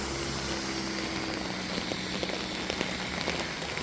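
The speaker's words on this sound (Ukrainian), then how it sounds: "Поки зібралася і знов пішов дощ." Steady rain patters on a hard surface in Canada at about 10 degrees, with occasional louder drops ringing out nearby against the constant hiss.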